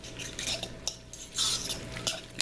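A spoon stirs a bruschetta topping of tomatoes, basil, garlic, olive oil and salt in a bowl, giving soft wet squelches and a few sharp clinks against the bowl, close and without talk.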